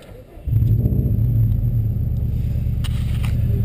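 A 2002 Subaru WRX wagon's engine turns over and catches, settling into a steady low rumble that continues to the end.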